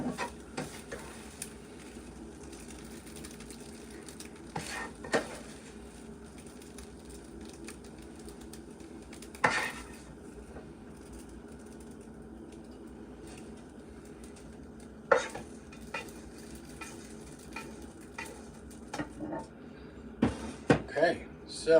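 Food frying in a pan for pre-cooked Christmas dinner, a low steady sizzle with occasional stirring scrapes and clunks, running under talk throughout.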